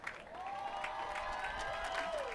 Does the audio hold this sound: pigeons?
no